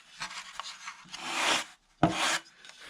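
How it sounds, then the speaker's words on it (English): Hand sanding on a build project makes two long rasping strokes with a short pause between them. The scraping is close and dry, with lighter rubbing before the strokes and no voices. "Just sanding."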